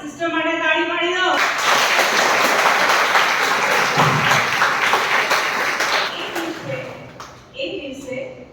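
A church congregation at a Gujarati service bursts into sustained applause for Sister Indira, with a voice speaking just before the clapping and again as it dies away.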